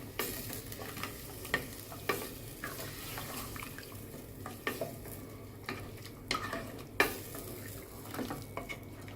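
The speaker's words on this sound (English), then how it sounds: "You fry for 15 minutes." Masala for beef curry sizzles frying in a pot with repeated stirring scrapes and occasional utensil clinks against metal, steady and close, no voices.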